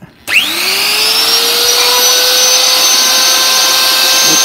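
A handheld router cutting a round-over edge around a hole, starting abruptly and then running as a loud, steady high-pitched whine with a constant motor tone throughout, no voices.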